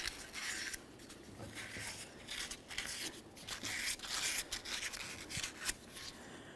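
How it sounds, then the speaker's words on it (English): Fine sandpaper scuffs the ball joint mounting surface on the steering knuckle of a 1994–1997 Honda Accord, making quiet rhythmic back-and-forth rubbing strokes close by with no talk. "We'll use some fine sandpaper,"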